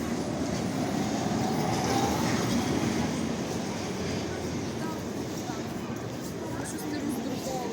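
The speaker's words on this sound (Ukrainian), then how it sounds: "Трамвай номер 2" A number 2 tram rumbles steadily past at close range in central Lviv, with a continuous low roar and rattle throughout, and faint voices in the background.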